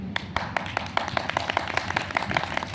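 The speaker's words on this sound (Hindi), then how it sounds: "इनके लिए भी जोरदार तालियां" Crowd applause during a devotional story-recital gathering for Mata Tara Rani in Churu, Rajasthan: a sparse, steady run of distinct claps, fairly faint, with no talk over it.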